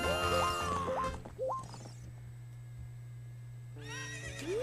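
Horse neighing in the video game The Legend of Zelda: Ocarina of Time, with rising whinnies at the start and again at the end over a steady low game hum, loud and close.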